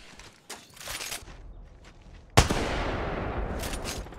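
A Kraber sniper rifle in a video game fires one sharp, heavy shot partway through, with a long rumbling tail. Scattered lighter clicks and movement noises come before it.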